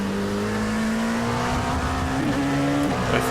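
Racing sim car engine holding a steady buzzing tone, then dipping and shifting as the car brakes hard with a short tire squeal, loud and close with no talk.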